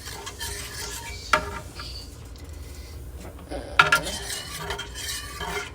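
Shrimp and cheesy potato mixture stirred in a pot, a steady scraping and clinking of a utensil against the pot with a couple of sharper knocks, close and moderately loud.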